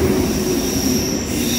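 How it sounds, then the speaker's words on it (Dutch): A first-generation ICE high-speed train with panorama cars arrives at a station, its wheels squealing in a sustained high metallic tone over a steady rolling rumble, loud and close. "Het is voorbij, de trein komt eraan. Een dikke ICE."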